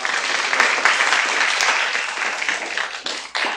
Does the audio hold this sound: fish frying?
no